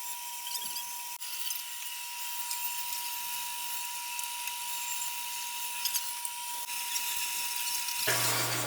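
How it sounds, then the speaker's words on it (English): Two bandsaws run side by side through mulberry wood, giving a steady high-pitched whine with a constant tone that continues unbroken for several seconds before changing abruptly near the end. "now we're going to do a side-by-side bandsaw race to the finish"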